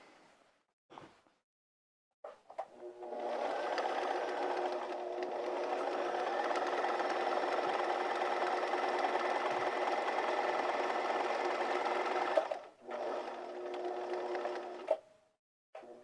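A sewing machine stitches pants in one steady, close run of about ten seconds, then stops briefly and resumes for a short final burst, with quiet clicks around the stitching.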